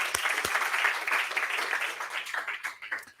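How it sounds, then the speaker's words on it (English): Church congregation applauding performers during a Sunday service, dense steady clapping near and full at first, thinning toward the end, with no talk over it. "Let's give them another round of applause."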